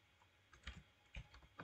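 A short run of computer keyboard typing while a wall name is entered in building-design software: a few separate, fairly soft key taps over a steady low hum, with no talking.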